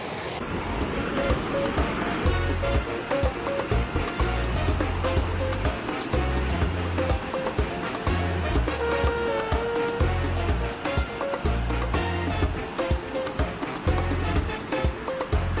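Heavy river water rushing out of a cave at Semuc Champey, Guatemala, a loud, constant roar of churning flow close by, with wind buffeting the microphone.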